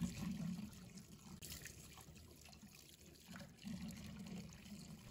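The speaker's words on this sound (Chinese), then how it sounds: "用流动水清洗鱿鱼" Running tap water splashes and trickles steadily while squid is rinsed in a basin, a close continuous wash with brief surges of louder flow and no voices.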